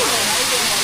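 Sacred water from a waterfall at a Shiva shrine in India pours over rock where people bathe, making a dense, continuous roaring hiss close by.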